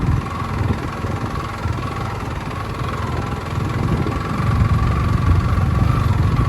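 A motorcycle engine runs steadily on a rough road, a close, continuous low throbbing drone that swells slightly toward the end, with no talking over it.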